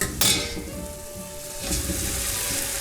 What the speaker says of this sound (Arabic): دلوقتي هننزل في الرز